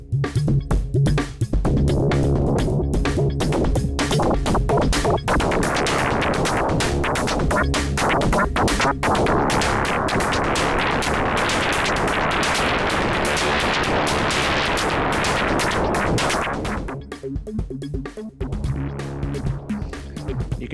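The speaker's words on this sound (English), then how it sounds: "the ability to take audio and drive it into fracture in such a way that it causes really strange results." A full music mix pushed through a Fracture distortion effect, producing loud, dense, stuttering and glitchy bursts with sharp choppy cuts that run continuously, easing slightly near the end.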